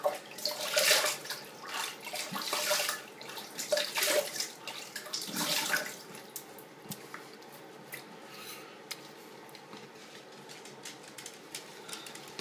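Water running and splashing while a razor is rinsed during a traditional wet shave with a Merkur Futur safety razor, bursts of splashing early on that settle into a quieter trickle.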